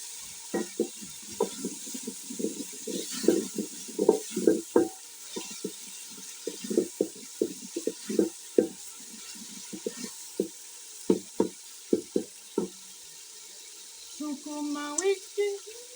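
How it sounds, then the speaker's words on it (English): A spoon stirring soup with already-cooked meat in a pot, irregular scraping and knocking strokes clustered in bursts over a faint background hiss, close and fairly clear. "Adding the soup, you just stir and you leave it for like some 10 to 20 minutes to get ready"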